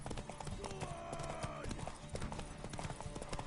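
Horse hooves clip-clop in a steady, brisk rhythm in a PS4 video game, with a faint voice-like tone drifting underneath.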